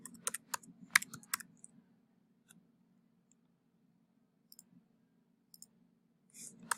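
Someone types a folder name on a computer keyboard, producing a quick burst of close, crisp key clicks, then a few scattered taps over a low steady hum.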